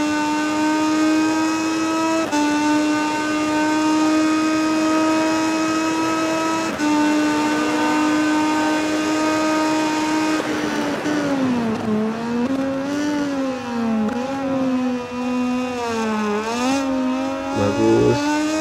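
A Moto2 motorcycle in MotoGP 20 runs at full throttle, a steady high-pitched engine drone that holds its pitch and then swings up and down through gear changes and corners, loud and continuous.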